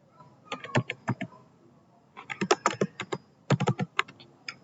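Typing on a computer keyboard in short bursts of quick, close clicking keystrokes separated by brief pauses, with no voice.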